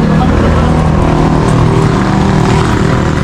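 A motorcycle engine runs steadily and loudly up close during a ride with two motorbikes near a river after a typhoon. The drone is unbroken, with voices talking over it.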